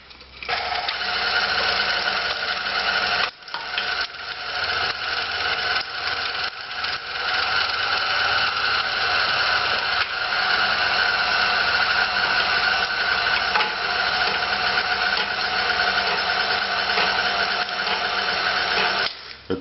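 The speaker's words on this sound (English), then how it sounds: "I've got some day-old bread that I cut up that I'm going to put into the grinder right after this to help push through the rest of the meat" Meat grinder running steadily, grinding rabbit meat and cubed day-old bread, a continuous mechanical whir with a brief dip near the start, no talk.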